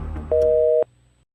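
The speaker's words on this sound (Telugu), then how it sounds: "The person you are speaking with has put your call on hold." A telephone on-hold tone sounds as a single steady electronic beep lasting about half a second. It is clean and clear against a faint line hum, then the line goes quiet.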